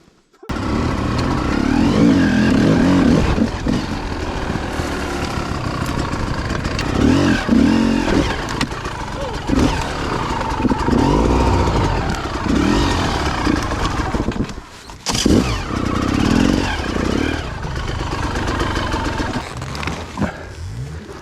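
An off-road motorcycle on a rooty trail revs hard in repeated surges, loud and close, its engine roaring almost without a break for the whole stretch, with one short dip in the middle.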